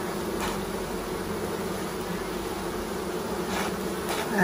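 Honeybees shaken out onto the top of a hive during a sugar shake test hum in a continuous, loud, even drone with no voices.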